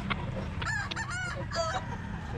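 Bantam chickens at a pet market crow and cluck close by, with several bright, repeated calls over a steady background of market noise.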